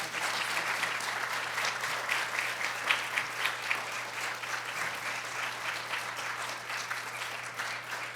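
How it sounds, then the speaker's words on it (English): Audience applause fills a conference hall, a steady wash of many hands clapping at moderate distance that holds evenly throughout, with no voices over it. "Can you all please give them a round of applause?"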